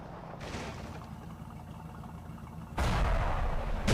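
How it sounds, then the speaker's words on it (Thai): A rocket launches from a Humvee M1038 anti-aircraft vehicle in the tank game Clash of Panzer, a booming burst of noise that erupts suddenly near the end over a low rumbling battlefield background. "เดี๋ยวผมจะยิงจรวดให้ดูนะเดี๋ยวจะยิงจรวดให้ดูแป๊บหนึ่ง"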